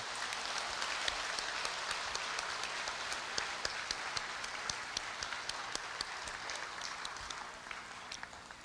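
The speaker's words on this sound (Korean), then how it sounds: "다시 한번 두 분 부모님께 따뜻한 박수 한 번만 더 보내드릴까요?" Warm applause from a ceremony audience for two parents at a Korea University 110th anniversary celebration, a steady, dense wash of many hands clapping at a distance, with no talk over it.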